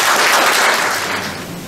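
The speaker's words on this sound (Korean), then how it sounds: "큰 박수 부탁드립니다." Audience applause at a Korean labor research institute anniversary forum, a dense wash of clapping from a full room that holds steady and then tapers slightly over under two seconds, with no talk.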